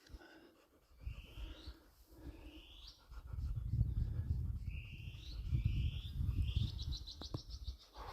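Repeated two-note cuckoo calls sound at a moderate distance on a ridge top over breathy, rustling noise close by, several calls spaced a second or so apart.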